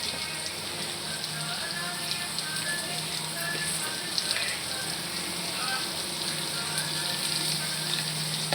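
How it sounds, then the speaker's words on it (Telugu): Onion, capsicum and bean pieces sizzle steadily as they fry with salt in a pan, a continuous crackling hiss that runs evenly throughout with no talking. "ఇందాక కట్ చేసుకున్న ఆనియన్ ముక్కలు, క్యాప్సికమ్ ముక్కలు, బీన్స్ ముక్కలు వేసేసుకొని కొంచెం సాల్ట్ వేసేసుకొని"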